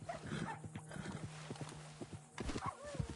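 Horse hooves clip-clop at a steady walking pace in a video game, with a whinny and other animal noises mixed in, fairly faint and close, without speech.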